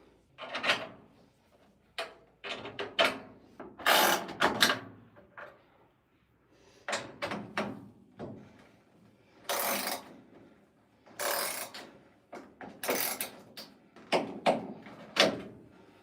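Two screws are being driven back into the ends of a GE dryer baffle. Close, intermittent bursts of ratcheting clicks and rattles come in short clusters separated by brief pauses, with no talking.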